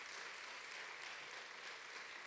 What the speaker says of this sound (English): give Dan one more round of applause, please.